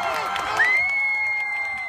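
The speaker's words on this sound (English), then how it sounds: "The crowd just went crazy." Homecoming crowd at a Valley football game cheering and applauding, a brief wash of claps and shouts with one high whistle cutting through, moderately loud and continuous.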